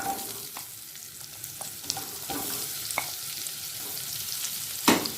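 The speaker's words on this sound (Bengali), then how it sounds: "মাখনটা মেল্ট হয়ে গেছে এই সময় দিয়ে দেব পিঁয়াজ" Diced onions fried and stirred in melted butter with a little oil, a steady close sizzle with irregular clicks and scrapes of a utensil against the pan, building to a sharper clatter near the end.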